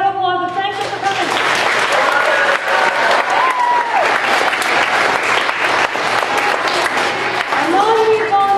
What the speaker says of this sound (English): audience to give a big round of applause and thank you for coming.